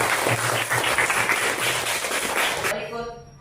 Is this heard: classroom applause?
yes